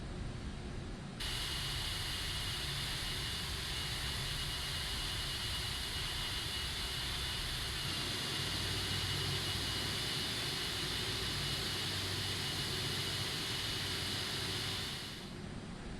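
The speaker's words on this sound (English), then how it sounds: "the taxiing already feels super weird from the first officer's seat" In the Prepar3D flight simulator, an Aerosoft A330 jet taxis with a steady, even engine hum and broadband whine that holds unchanged for the whole stretch, with no voices.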